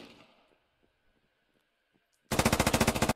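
A SAW machine gun fires in the video game Squad, a loud sustained burst of about a dozen rapid, evenly spaced rounds that comes after a quiet stretch and ends abruptly.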